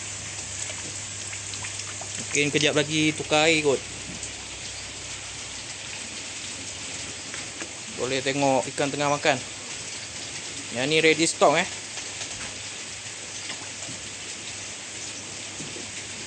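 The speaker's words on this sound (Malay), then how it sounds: "Sekarang tengah hujan." Steady rain hisses throughout over giant gourami fish ponds, with someone speaking briefly three times over the constant patter.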